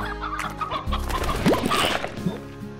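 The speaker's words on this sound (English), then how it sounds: "Baby chicken." Cartoonish chicken clucks and chirps from the Slime Rancher video game, a run of short clucking calls over steady in-game background sound, fairly close and prominent.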